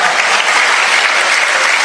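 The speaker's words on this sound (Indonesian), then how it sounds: "Tepuk tangan dong buat saudara." A church congregation claps loudly and continuously during a pastor's sermon, a thick, even wash of many hands close together with no talking.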